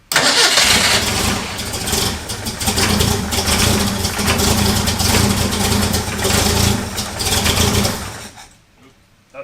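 A Ford Pinto engine cranks and catches after its swapped number 2 and 3 plug wires are corrected, running loud, rough and close on a cold night for several seconds before cutting out.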